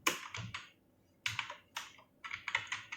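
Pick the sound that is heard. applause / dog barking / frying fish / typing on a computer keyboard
typing on a computer keyboard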